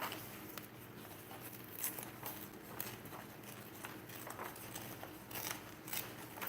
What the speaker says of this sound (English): That's the first thing we're just going to rip the sides